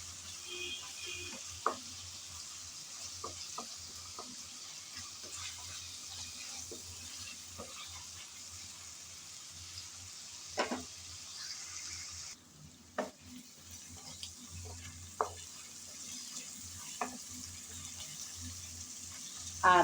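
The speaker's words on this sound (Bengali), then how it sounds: "আদা রসুন বাটা দেওয়ার পর নেড়ে চেড়ে পেঁয়াজের সাথে ভেজে নিতে হবে" Ginger garlic paste frying with onions in a pan, a faint steady sizzle under scattered soft clicks of a stirring spoon, with quiet background noise and a brief pause partway through.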